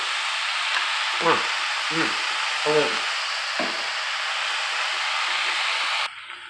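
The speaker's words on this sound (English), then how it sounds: "Now I'm going to add the potatoes." Raw potatoes go into a hot pot for New England clam chowder and are stirred, making a steady sizzling hiss with several short scraping stirs.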